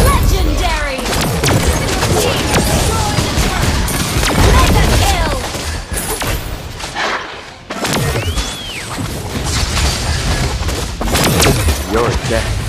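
Granger's Crescendo Bullet gunfire in the Mobile Legends video game: dense, loud rapid shots and booming impacts layered over continuous game music and effects, with a voice talking throughout.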